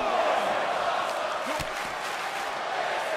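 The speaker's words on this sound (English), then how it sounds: "the crowd is excited for this match" Wrestling crowd cheering at a live match, a steady dense roar of voices throughout with a few whistles and shouts rising out of it, a commentator talking over the top.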